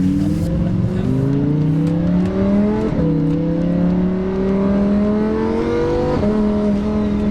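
A powerful sports car engine revs up repeatedly, rising in pitch through gear changes, loud and close with a steady throaty roar.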